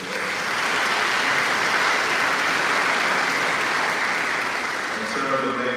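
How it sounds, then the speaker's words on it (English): A ceremony audience at a dental school white coat event breaks into loud, sustained applause, a thick wash of clapping that fades slightly near the end. "So let's give them a round of applause."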